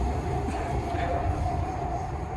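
A Chennai metro train travels from Koyambedu toward Central, heard from inside the carriage as a continuous, fairly loud rolling rumble with a steady hum throughout.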